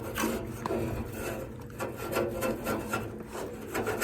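Metal turbulators scrape and rub as they are pushed back up into the tubes of a Central Boiler outdoor wood stove, giving a close, uneven run of grinding metal scrapes and knocks under a low hum.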